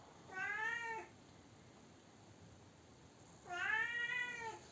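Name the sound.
cat meowing while coming down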